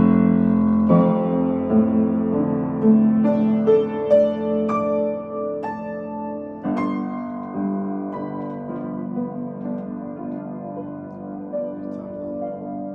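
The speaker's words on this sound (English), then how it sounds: "If we follow the phrase of Grieg, it will sound like this" Solo piano plays a flowing cadenza-like passage from Grieg's Piano Concerto, with struck notes and runs rising and falling, some accents ringing out before the line gradually softens.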